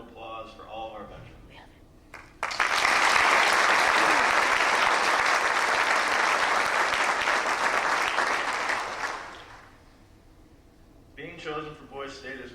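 A school gym crowd at a Veterans Day celebration breaks into sustained applause for veterans, loud and even for several seconds before fading. A speaker talks over a microphone before and after the clapping.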